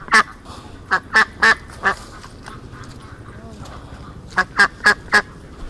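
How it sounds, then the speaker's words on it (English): A group of ducks gathered in bushes quacks loudly and close by, one burst of four or five harsh calls, a pause, then another run of four, with no talk over them. "Look at this group of ducks in here."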